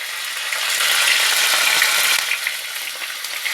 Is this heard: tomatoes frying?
yes